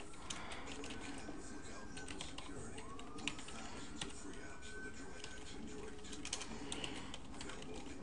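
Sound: typing on computer keyboard

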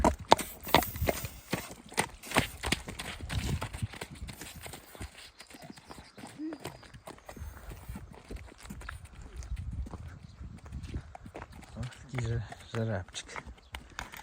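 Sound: horse hooves walking

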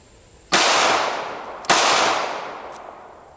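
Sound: gunshot from IC380 cell phone gun

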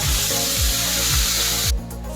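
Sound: roselle leaves added to sizzling tempering of chillies, garlic, curry leaves

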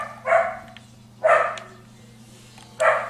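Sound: dog barking

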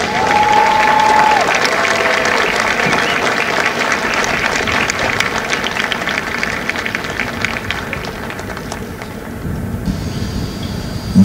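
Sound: applause

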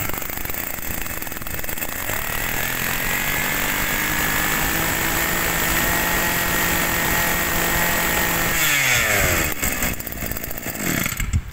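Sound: Tanaka two-stand Japanese grass cutter engine running

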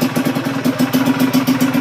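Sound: upgraded motorcycle engine running

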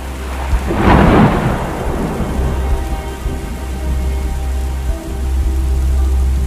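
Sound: thunderstorm with heavy rain sound effect

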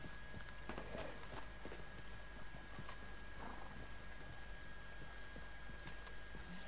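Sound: horse hooves clip-clopping in the video game Red Dead Redemption 2

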